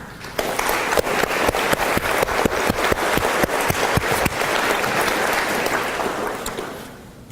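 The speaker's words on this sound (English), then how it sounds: "I think that deserves a round of applause." A faculty and staff audience gives a round of applause, with loud, sharp individual claps standing out over a dense crowd clapping close by, fading away near the end.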